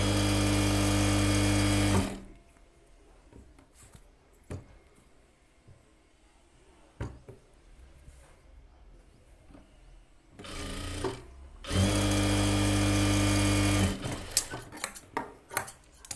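A sewing machine stitches blouse lining onto the main material in loud bursts of rapid whirring, with quieter clicks and handling of cloth between runs.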